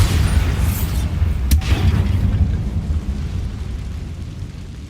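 A deep, booming blast from the Bombarda explosion spell in Hogwarts Legacy, a loud rumbling burst with a sharp crack partway through, then a long low roar slowly fading away.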